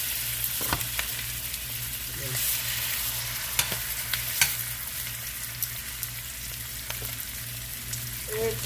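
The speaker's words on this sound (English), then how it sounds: "Got my drumsticks in there. It's on medium-high heat." Chicken drumsticks fry in a pan over medium-high heat, a steady close sizzle with a low hum beneath and occasional sharp clicks and scrapes from stirring.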